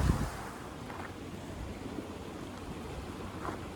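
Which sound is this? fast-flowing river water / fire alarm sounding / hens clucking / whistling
fast-flowing river water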